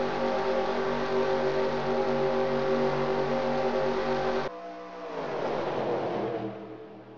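Race cars roar around a track during a race, a loud sustained engine drone that cuts off abruptly and then gives way to a car whooshing past, its pitch falling as it fades.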